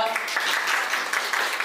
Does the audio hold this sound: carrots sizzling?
no